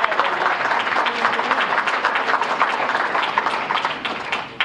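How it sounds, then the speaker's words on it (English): A crowd at the 2014 WCTV Clapper Awards ceremony bursts into dense, sustained applause of many clapping hands that stays fairly loud throughout and thins slightly near the end. "I want to give her a round of applause"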